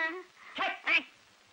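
A dog gives a couple of short, close yelping barks in quick succession, fairly loud and alone.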